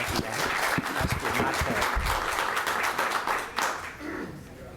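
An audience at a Salem city council meeting breaks into applause, a dense, fairly distant patter of many hands clapping that fades toward the end.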